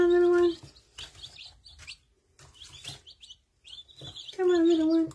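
Newly arrived baby chicks peep in loud, high, steady chirps at the start and end, close by, with quieter rustling and soft talking between the bursts.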